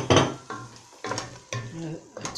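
Tomatoes frying in a pan, stirred in four quick scraping strokes about half a second apart, each over a soft sizzle, close and fairly quiet.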